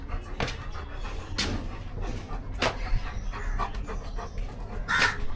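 A dog named Tiger pants in quick, steady breaths close by, while crows caw loudly several times in the background.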